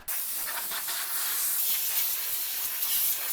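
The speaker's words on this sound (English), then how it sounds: "Lots of dirt, blow it out." Compressed air blasts steadily into the dirty rear wheel area of a Mercedes R-class W251, a loud, continuous close hiss lasting the whole stretch with slight surges.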